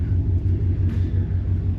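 A second-generation Dodge Ram pickup backing up, its engine giving a low steady rumble close by with no voices over it.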